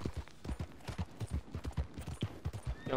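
Horse hooves clip-clop in the video game Red Dead Online, a steady, close rhythm of fairly even beats that runs throughout with no talking over it.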